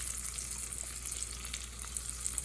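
Sizzling chili crisp, fresh from a pour of hot oil, is stirred in a bowl, giving a dense crackling hiss with small ticks and scrapes throughout, near and steady, with no talking.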